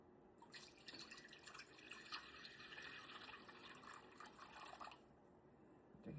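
Warm water pours steadily for sourdough bread dough, a continuous bright splashing trickle into a container that runs for about five seconds before tapering off.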